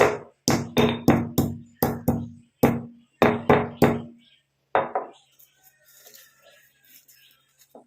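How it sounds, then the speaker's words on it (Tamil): Almonds lightly pounded with a pestle for a homemade shikakai shampoo mix: about a dozen sharp, close thuds in quick irregular succession, each with a short ringing tail, then a final strike and quiet rustling handling noises. "இதில் இந்த மாதிரி இடிகள் எடுத்துகிட்டு 1 2 தட்டிக்கலாம்."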